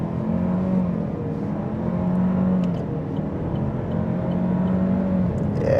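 A 2025 Chevy Malibu LT Redline Edition sedan accelerates hard on a highway, its engine droning and rising in a steady, continuous pull under wind and road noise, with no talking.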